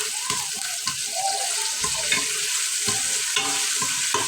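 Onions frying in hot oil with frozen ginger-garlic paste, a steady close sizzle broken by scrapes and stirring knocks, no voices.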